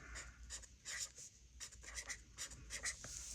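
A pen scratches and scrapes across the paper of a Hobonichi Cousin planner in short, close strokes with small pauses between words, quiet and alone.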